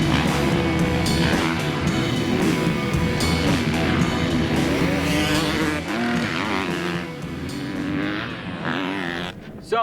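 A 2020 Suzuki RM-Z 250 motocross bike rides on a dirt track, its engine droning loud and continuous with rising and falling revs throughout, close to the rider.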